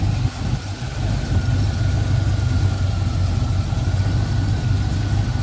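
A 1973 Pontiac Ventura's V8 engine idles smoothly and steadily, a close, even low rumble that runs unbroken from start to finish with no voices over it.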